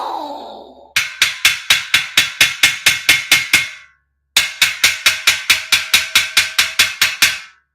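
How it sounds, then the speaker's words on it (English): Parts of a steel shelving unit are hammered together in two quick runs of sharp, ringing metallic blows at a steady rhythm, close and loud, with a brief pause between the runs. "Should just have to hammer it down."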